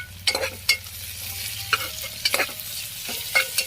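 Green and dried red chillies sautéing for tomato thokku, with a steady low sizzle under repeated sharp scrapes and stirs of a spoon in the pan, close and alone.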